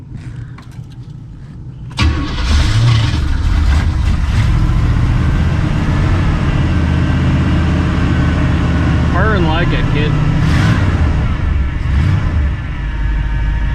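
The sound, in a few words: barn find race car engine cranking and revving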